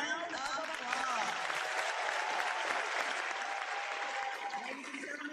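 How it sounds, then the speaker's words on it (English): Audience applause at a New Year's event in Atlanta as city council members take the stage, a dense sustained clapping from a large crowd, steady for several seconds before easing slightly, with some faint voices mixed in. "give them all a big round of applause"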